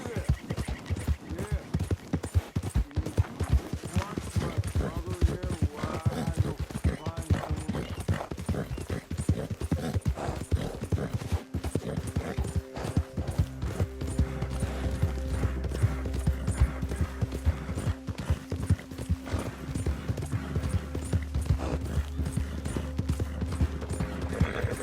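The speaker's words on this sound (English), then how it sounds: "God damn drunk horse." Horse hooves clip-clopping steadily in Red Dead Redemption 2, a continuous rhythmic trot heard close up, with occasional mechanical clatter and a voice talking over it.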